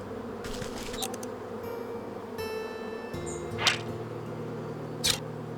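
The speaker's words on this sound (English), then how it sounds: "Frickin' bees." Bees buzz in the video game Wytchwood, a faint, steady insect drone with a couple of brief sharp sparkly accents, quiet and with no talking.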